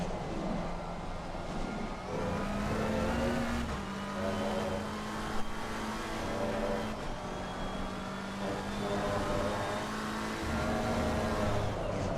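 A race car engine in the sim racing game Assetto Corsa Competizione during the final stints of the Spa 24-hour race drones steadily under load, a continuous buzzing tone with gradual pitch shifts as it accelerates and holds speed.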